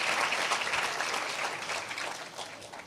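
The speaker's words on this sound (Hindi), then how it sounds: "आई डोंट नो हम लोग ताली क्यों बजा रहे" A live audience at a comedic church talk claps steadily together, a dense, loud patter of hands that fills the room and tapers slightly toward the end.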